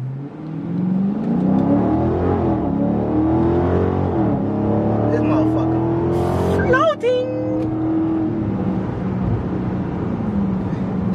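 A 392 Scat Pack Widebody car engine climbs through rising revs, then its pitch abruptly drops around a downshift; the loud, close engine sound runs under people talking.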